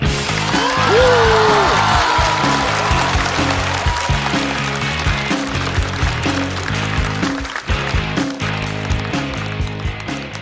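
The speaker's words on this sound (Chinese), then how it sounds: "掌声欢迎正宗的鸡排哥" A studio audience breaks into dense, sustained applause and cheering to welcome a chicken cutlet street vendor onto a comedy show stage, with music playing underneath.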